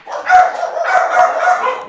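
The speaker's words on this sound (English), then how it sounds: "If you could hear that over the dogs" Several dogs bark loudly and close by in a home during an online game session, giving a quick burst of overlapping, yappy barks with no talk over them.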